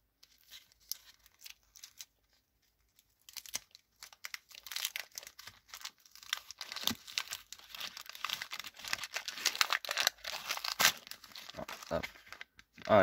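Packs of Lego Ninjago series 7 trading cards being opened by hand, close crinkling and tearing of foil wrappers that grows busier after a quiet start, with faint voices now and then.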